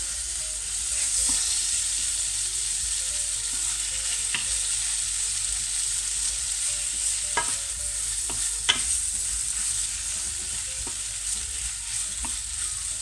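Onions and tomato cook in a pan for an onion tart, giving a steady bright sizzle throughout with occasional soft clicks and taps of a utensil stirring.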